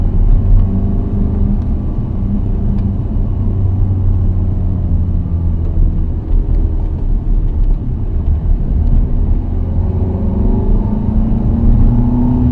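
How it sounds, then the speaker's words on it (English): A Ferrari driving through the streets of Nice, France, gives a loud, steady engine rumble that drones on continuously, with slight swells in pitch as it moves along. "So the engine note's completely different now."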